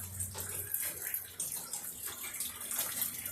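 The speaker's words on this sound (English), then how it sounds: "Everything's dripping, very wet" Water drips and splashes steadily from wet plants in a garden after heavy afternoon rain, an irregular patter of drops close by with no voices.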